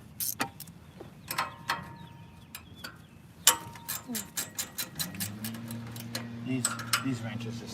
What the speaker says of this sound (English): These wrenches just make the job so much easier.